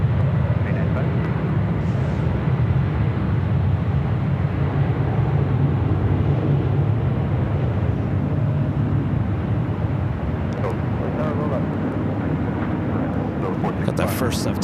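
A Delta Boeing 767 takes off on runway 24 left at LAX, a broad steady jet roar that holds at a constant level throughout, with faint talk in the background.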